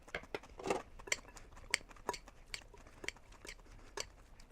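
Homemade coleslaw being mixed in a bowl, with a steady run of soft clinks and scrapes from a utensil against the dish, close and fairly quiet.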